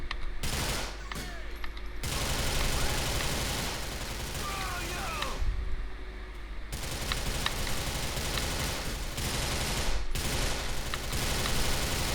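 Bursts of gunfire in the video game GTA 4, rapid automatic volleys and fusillades in several loud clusters separated by brief gaps, with mechanical clicks and a voice speaking over the action.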